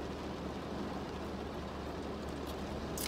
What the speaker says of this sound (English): it decided that it wanted to pour down raining